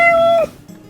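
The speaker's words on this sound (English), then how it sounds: "I put the whole MEOW sample" A single cat meow sample played back through an Ableton sampler, a loud, clear tonal meow lasting under half a second before dropping to near silence.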